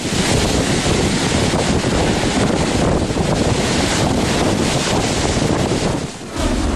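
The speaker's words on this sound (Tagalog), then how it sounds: "binayo naman ng husto ng malalaking alon ang mga bahay sa tabing dagat" Heavy surf roars continuously, with big waves crashing and churning against a shore lined with houses, amid strong wind buffeting the microphone.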